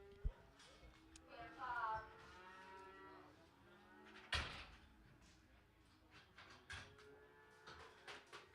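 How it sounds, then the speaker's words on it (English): Cattle moo repeatedly in the pens of a livestock auction at Clinton Stockyards, the lowing rising over a continuous auctioneer's chant, with a sharp bang partway through like a gate or door. "Four ahead of these cattle. Bulls, ain't they?"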